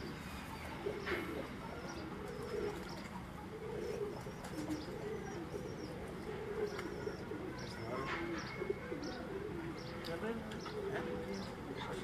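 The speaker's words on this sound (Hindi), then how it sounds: "तो ये जो कबूतर आप देख रहे हैं दोस्तों" Pigeons on a rooftop loft in Islamabad, cooing in low repeated bursts under ongoing talk, with occasional chirps and wing or foot sounds nearby.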